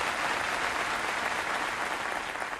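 Audience applause, a dense steady roar of clapping filling the whole stretch at even loudness with no break.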